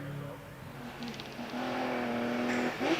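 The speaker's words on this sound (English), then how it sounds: "Here's the Mark 1 Escort of Martin Saunders." A Mark 1 Ford Escort hillclimb race car at Prescott during British Championship practice, its engine note rising and holding steady as it passes at moderate distance, with a commentator talking over it.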